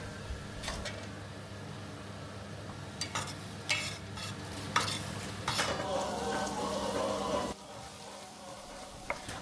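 Meat stirred back into a pot of sautéed onions and carrots for a Turkish stew, spoon scraping and clinking against the pot over a soft sizzle, with several sharp knocks and a louder stirring stretch midway.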